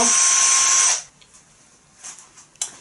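A MEEC TOOLS 008199 cordless drill-driver whirs loudly and steadily as it drives a screw, then stops after about a second, leaving quiet room noise with a few faint knocks.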